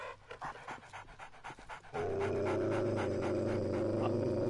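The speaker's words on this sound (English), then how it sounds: "Yeah, I think it's a dog." A dog pants in the survival video game 7 Days to Die, with quick rhythmic breaths that turn into a loud, steady, continuous panting close by for the second half.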